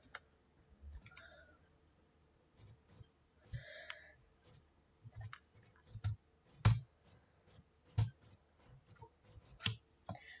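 Someone types words on a computer keyboard: soft, irregular key clicks, close and quiet, with scattered sharper taps and short pauses between bursts.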